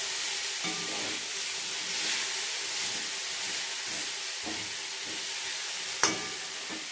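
Moringa drumstick stems fry in a pan, a soft continuous sizzle with occasional stirring scrapes and one sharper clatter near the end, fairly quiet and close.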